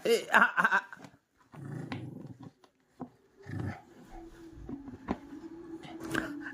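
A Shih Tzu named Koko growls in short low bursts close by while being offered food, with brief pauses between growls and a person speaking intermittently.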